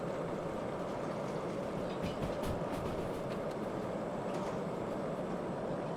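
A 2-8-2 steam locomotive in Derail Valley rolls along with a steady low rumble and broad hiss, a few faint clanks rising midway, no talking heard.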